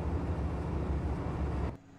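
A steady, heavy vehicle engine rumble in a military video game drones loudly for almost two seconds, then cuts off abruptly into a faint low hum.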